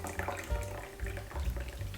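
Water pours steadily from a tap or bottle into a glass holding about two tablespoons of apple cider vinegar, a continuous close splashing flow for a couple of seconds with no talking.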